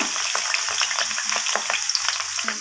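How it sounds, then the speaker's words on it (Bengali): Potato and papaya pieces frying in hot oil, a steady close sizzle broken by light stirring scrapes throughout, with no voices. "তো পেঁপিয়া আর আলুটাকে আমি লাল লাল করে ভেজে নেব।"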